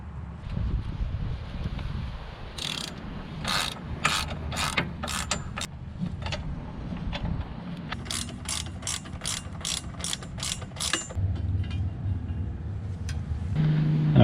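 A ratchet with a T45 bit clicks in rapid bursts while backing out bolts on a Harley-Davidson Road Glide Special during a crash bar install, with bursts of repeated pawl clicks separated by short pauses, close and fairly loud over low rumble.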